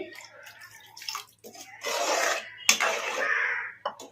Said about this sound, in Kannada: ನಾನು ಇನ್ನೂ ಒಂದು ಅರ್ಧ ಲೋಟ ನೀರು ಹಾಕ್ತೀನಿ